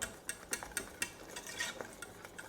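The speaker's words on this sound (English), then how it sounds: "Make sure you keep stirring so it's not burning down the bottom" A spoon stirs a thickening mixture in a pot, making soft, faint scraping and knocking strokes at an irregular pace against a quiet background.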